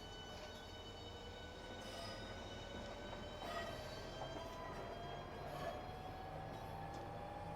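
High-speed train pulling out of Ebbsfleet International toward Stratford International, heard from inside the carriage as a steady low rumble with a rising whine as it gathers speed, quiet and continuous.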